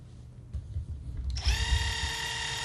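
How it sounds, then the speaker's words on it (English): A handheld power drill bores a small hole for a brad into a craft piece over a phone-book backing; quiet handling noise gives way to a steady, high whirring drone that holds to the end. "Got this cool drill. And I just drilled a little hole in here."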